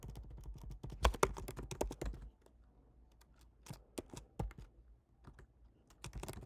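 Code typed on a computer keyboard, rapid clustered keystrokes in bursts with short pauses between them, close and clear with no talking.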